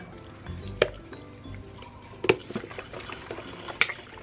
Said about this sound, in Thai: ต่อไปก็ใส่น้ำปลาดีค่ะ